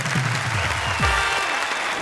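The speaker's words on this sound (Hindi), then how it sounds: "और हम उन्हें देंगे तालियां।" Studio audience at a Hindi comedy and poetry show applauds, a continuous wash of clapping with a low voice or tone sweeping briefly underneath.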